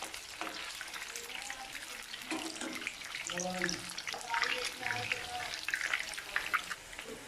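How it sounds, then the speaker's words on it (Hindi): Chicken pieces shallow fry in hot oil for a Chicken Manchurian, a soft steady sizzle with light stirring clatter and faint kitchen water sounds, fairly quiet and close. "ये चिकन के पीसेस मैं इसमें शैलो फ्राई कर लूँगी"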